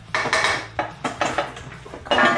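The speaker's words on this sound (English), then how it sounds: "A little hit with the hammer." Several sharp metallic clanks ring out at irregular intervals, each a bright hit with a short ringing tail, close by: a hammer striking a dirty transmission bell housing during an LS1/T56 swap on a Chevrolet Silverado.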